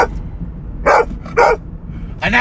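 A dog barks several times in loud, distinct bursts, three or four barks spaced out against a low indoor background hum, with no talking over them.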